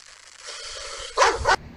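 A single dog bark sounds close and loud, with a short burst after a quiet stretch of faint background hiss.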